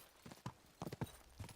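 Horse hooves clip-clopping in the video game Kingdom Come: Deliverance II, a handful of irregular hoof strikes on hard ground, fairly close but quiet, with no talk.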